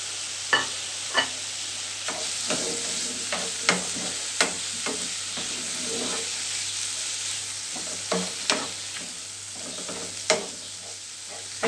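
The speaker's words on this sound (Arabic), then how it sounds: "غادي نديه هنايا ونجيبو فهاد المقلة غير واحد الشوية غير باش يتقلي داك الما ديالو" Squid frying in butter in a non-stick pan, a soft steady sizzle broken by intermittent clicks and scrapes of stirring, close and alone without talk.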